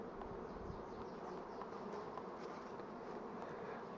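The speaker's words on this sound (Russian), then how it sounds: "Пчелы потихоньку облетываются на новом месте." Honey bees swarm and fly around newly placed hives set on the ground, a steady dense buzzing hum that continues without break and sounds fairly close.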